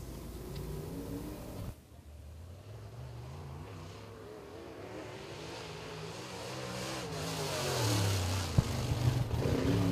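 Open wheel modified race cars circle 411 Motor Speedway during qualifying, engines droning at a distance, fading and then swelling louder as a car sweeps closer near the end.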